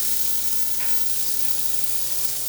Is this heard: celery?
yes